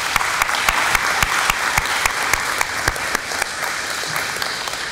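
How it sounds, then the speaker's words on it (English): Crowd of parents and guests at a school honor society induction ceremony applauding, a loud, sustained wall of clapping with a few sharp, close claps punching through at a regular beat. "So a big round of applause for our administration."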